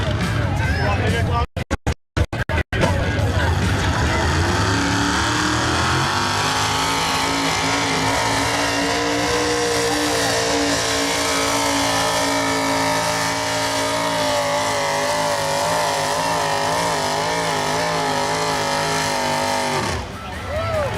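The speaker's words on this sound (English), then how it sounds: "470 cubic inch Mopar motor, run gas." A pulling tractor powered by a 470 cubic inch Mopar gas motor, driven by Dusty in a gas class at the 2024 Sublimity Harvest Festival tractor pull, roars loudly and climbs in pitch, then holds a sustained howl under crowd noise and announcing.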